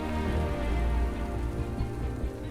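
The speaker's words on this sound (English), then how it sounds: "Nature is at its most beautiful when it's raining. I love the rain and mist." Rain falls steadily during a mountain trek to Everest Base Camp in Nepal, a dense, continuous patter of drops on nearby surfaces with a dull low rumble underneath and no voices.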